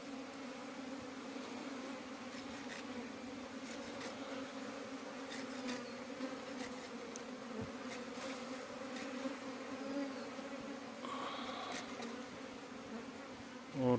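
Honeybees buzz steadily around an open hive box as the queen is released among them, a dense continuous drone lasting throughout with faint handling noises over it.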